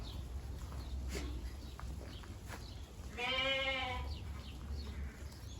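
Sheep and lambs in a barn on a rainy day, one clear close bleat rising above a soft background of rustling and a few distant calls.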